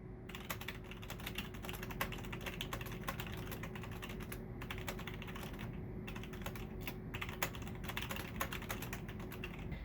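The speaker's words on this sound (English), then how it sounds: "Here's what the switch sounds like from about a foot away." Steady, rapid typing on a Logitech G910 keyboard with Romer-G mechanical switches, heard from about a foot away as a continuous stream of clicky keystrokes over a low background hum.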